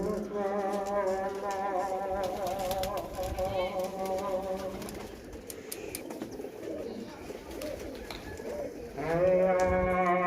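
Pigeons drop down from above to land near a loft, giving repeated throaty coos and calls over a steady outdoor background, with a louder burst of calling near the end.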